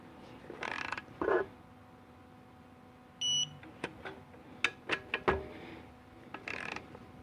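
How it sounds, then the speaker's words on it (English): A torque wrench tightening the pump bolts on a 700R4 transmission case, with scattered close clicks, ratcheting and a short electronic beep amid quiet pauses. "Torque these pump bolts to 18 foot-pounds. Just do it in a"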